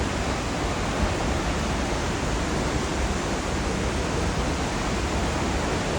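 Waterfall in Biliran, Philippines, roaring as a dense, loud, unbroken rush of falling water that fills the whole span with no voices.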